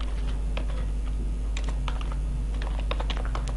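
Quick, irregular keystrokes clatter on a computer keyboard, close and crisp, over a low steady electrical hum, with no speech.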